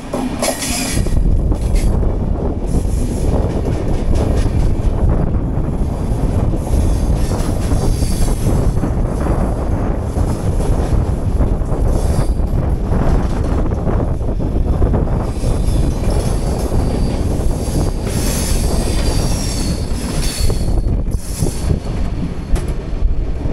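The Jammu Tawi express train rolls along the rails, heard from on board on the Kolkata to Jammu route: a loud, continuous rumble and rattle of the carriages with occasional wheel squeal, no talking.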